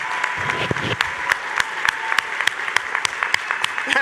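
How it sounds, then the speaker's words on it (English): Audience applause at a university commencement ceremony for award nominees standing, a steady dense clapping with sharper individual claps standing out, fairly close and loud throughout. "let's give them a round of applause"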